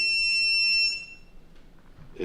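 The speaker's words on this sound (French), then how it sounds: "Donc le bip, c'est le buzzer qu'on a pu ajouter à la cellule réceptrice." A steady, high-pitched electronic beep from a timing cell's receiver buzzer, signalling misalignment, sounds continuously for about a second, then cuts off, leaving quiet background with a faint click at the end.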